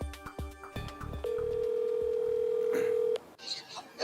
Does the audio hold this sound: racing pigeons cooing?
no